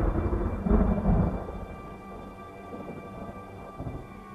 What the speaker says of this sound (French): C'est alors qu'un claquement puissant, comme un coup de tonnerre,